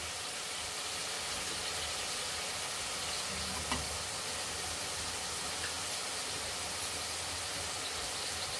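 Spices with chili powder and salt fry in a pan for a bean-seed curry, giving a steady, even sizzle throughout with faint scraping stir sounds.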